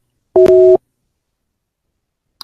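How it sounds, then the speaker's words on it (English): Telephone busy signal: two steady tones sounding together, loud and close, in one short burst of under half a second, followed by silence. "Line is busy."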